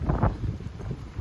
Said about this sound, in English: Today is a horribly windy and rainy day.